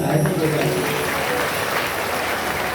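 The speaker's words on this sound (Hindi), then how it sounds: "बजाओ ताली" Applause from a crowd at a Bhagwat Katha religious gathering fills the whole stretch, steady and dense, with a voice talking faintly underneath at the start.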